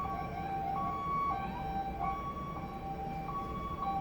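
A police car siren sounds in the distance outdoors, a wailing two-tone pattern that alternates steadily between high and low pitches over a constant hum of background traffic.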